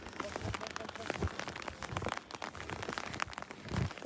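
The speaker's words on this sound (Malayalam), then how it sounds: "ഇപ്പം ചെറുതായി മഴ വന്നോണ്ടല്ലേ." Light rain patters onto the ground beside a level outdoor playing field in snowy Kashmir, a quiet, irregular scatter of soft drops and small ticks with no voices.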